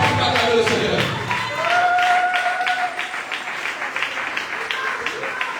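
A church congregation bursts into applause and acclamation during worship, a crowd clapping and cheering together. Voices call out over the steady clapping, rising in the first half and settling into scattered claps toward the end.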